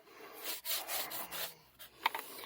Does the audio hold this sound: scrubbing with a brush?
yes